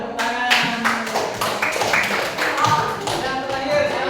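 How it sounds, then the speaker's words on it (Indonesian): Group of people clapping their hands together in a classroom, a dense run of taps and claps that continues steadily throughout with some voices mixed in. "Ya, tepuk tangan."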